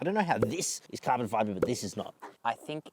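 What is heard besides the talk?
No everyday noises stand out.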